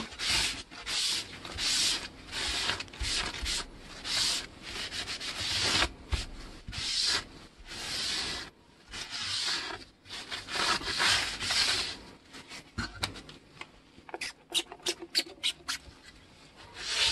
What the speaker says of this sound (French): D'abord je vais les nettoyer avec de l'alcool à brûler que je vais frotter avec un sopalin.